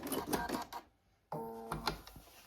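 A sewing machine runs a short back stitch to lock the seam, a brief mechanical whir that breaks off into a pause and then resumes, fairly close and quiet.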